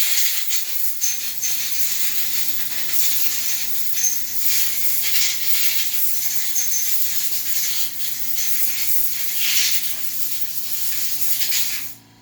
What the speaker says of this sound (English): Let me give it a good blowout with some compressed air.